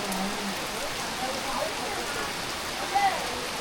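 Heavy rain pours steadily over a Konkan village in Ratnagiri, a dense, even hiss that stays close and constant, with a few faint bird chirps.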